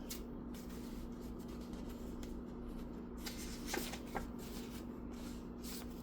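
Spirit advice cards being shuffled by hand, a steady soft riffling and sliding that runs throughout at low level, with a couple of brief sharper flicks near the end and a faint steady hum underneath.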